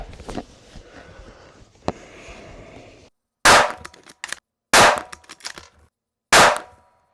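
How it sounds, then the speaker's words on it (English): A .35 Whelen Ruger Hawkeye African rifle fires three loud, sharp shots spaced a second or two apart outdoors, each with a short echoing tail. Quieter handling noise comes before them. "I'm gonna go ahead and forge onward, shoot another group."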